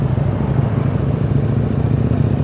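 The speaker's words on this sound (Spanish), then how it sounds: "Va, el ruidito del motor, mejor dicho." Steady, loud motor engine drone heard up close from a vehicle traveling on Route 307, a continuous low rumble with constant road noise and no pauses.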